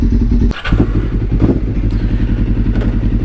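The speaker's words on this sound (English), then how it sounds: "So there's the bike idling" A Kawasaki EX-500 motorcycle engine idles close by with a steady, throbbing low rumble and a brief clatter near the start.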